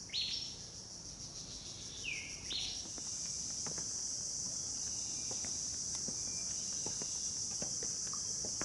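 A steady high-pitched drone of crickets chirping throughout, with a few brief bird calls early on and faint rustling in the background.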